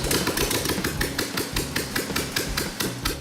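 A turnkey car engine runs steadily, a loud close idle with a regular rhythmic pulsing knock repeating several times a second throughout, with no talking.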